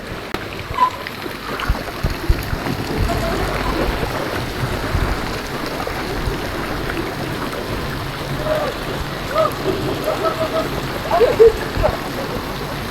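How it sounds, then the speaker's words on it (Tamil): Heavy rain falling steadily outdoors, a continuous broadband patter with a few louder gusts, with people talking faintly at points. "மழை பெய்யற சத்தம் மட்டும்தான் கேட்டுக்கொண்டே இருக்குது"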